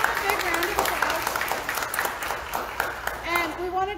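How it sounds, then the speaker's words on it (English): A worship service audience gives a round of applause for volunteers, the clapping fairly soft and spread out, with cheering voices rising over it near the end. "can we give them a big round of applause?"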